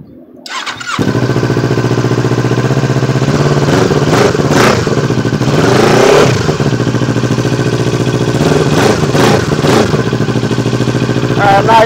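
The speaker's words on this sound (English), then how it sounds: "So let's start it up, let you listen to it, rev up a little bit." A small motorcycle engine starts on a cold winter day, catching after a brief crank, then idling loud and close with several rising revs and settling back to a steady rumble.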